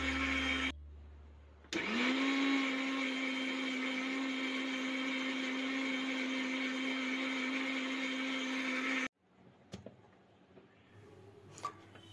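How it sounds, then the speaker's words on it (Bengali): Kitchen mixer blender grinding grated coconut and mustard with a little water into a smooth paste, a steady, loud motor whine that runs continuously for several seconds, then cuts off abruptly, leaving a few faint clicks. "তারপর দিয়ে দেবো 1 কাপ মতো নারকেল কোড়া দিয়ে এটা একটু জল দিয়ে ভালো করে একটা মিহি পেস্ট বানিয়ে নেব"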